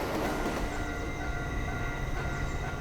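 A train rushes past in a dramatic scene, a continuous heavy rumble of wheels and cars, loud and close, with no voices over it.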